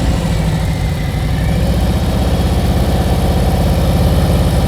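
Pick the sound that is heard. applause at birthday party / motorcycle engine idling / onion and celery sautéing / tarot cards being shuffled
motorcycle engine idling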